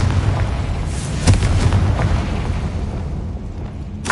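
A Confringo blasting spell erupts in Hogwarts Legacy, a loud sustained rumbling blast with a sharp pop partway through and a dense roar that fades slightly toward the end.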